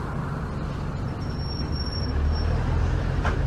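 An X5 bus pulls into a bus station, its engine droning steadily near and loud with low road rumble and faint traffic noise, and a brief hiss toward the end.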